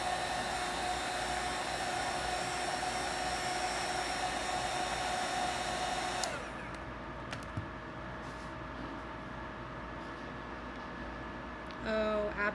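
A hair dryer blows steadily to dry paint on a handmade reindeer head craft blank, a loud continuous whir that drops to a lower, softer setting midway and then runs on with a few small handling knocks.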